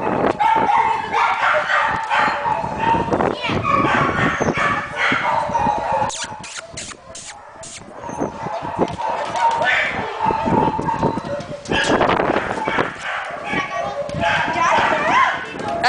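A playful pet dog barks and yips repeatedly while wanting to play, the sounds loud and close, mixed with someone talking over it and brief whimpers between bursts.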